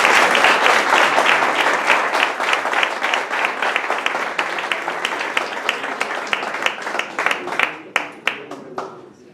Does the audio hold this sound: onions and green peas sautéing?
no